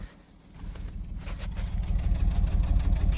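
A 1998 Dodge Grand Caravan SE minivan engine idles close by with an uneven, stumbling misfire rhythm, growing louder after a quiet start, no voices.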